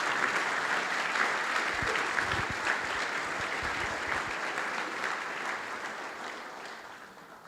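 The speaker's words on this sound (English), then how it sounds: "Now let's give them all a big round of applause." Audience applause at a community heroes luncheon, a full room clapping steadily and loudly, then gradually thinning and fading toward the end.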